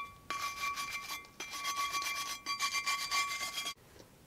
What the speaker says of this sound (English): I've got most of the loose rust knocked off.